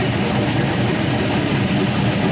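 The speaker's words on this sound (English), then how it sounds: "As you can see, it's at about an 800 RPM idle." A big-cam 5.3L LS V8 idling at about 800 RPM on a rich tune: a dense, steady rumble with a constant low throb and no change in pitch, close and fairly loud, with no talking.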